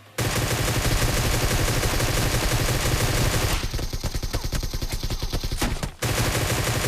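Rapid automatic bursts from a Groza rifle in a video game, loud and close, firing continuously with a short pause near the end before resuming.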